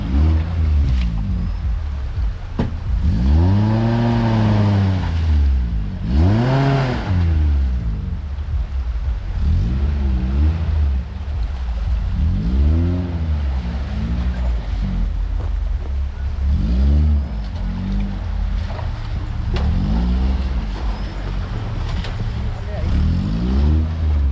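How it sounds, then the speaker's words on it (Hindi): A Maruti Gypsy 4x4 engine revs loudly and close as it climbs an off-road track through water, rising and falling in repeated surges. People talk over the engine noise. "अभी चढ़ रही है गाइस गाड़ी यहाँ से ऊपर, देखते हैं चढ़ती है कि नहीं"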